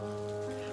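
Rain falls steadily in a drama scene, a soft constant patter on surfaces beneath a sustained tonal background of music.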